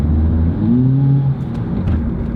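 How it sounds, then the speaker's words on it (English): A 4-cylinder Mazda car engine with a slipping transmission revving steadily, a continuous loud mechanical whir with a rising and falling pitch, heard close with no voices. "But when that transmission starts slipping"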